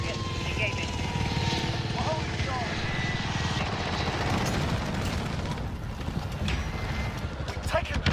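Helicopter rotor chop from a video game, a steady thumping drone running throughout at moderate distance, with gunfire-like clicks and other game sounds mixed in.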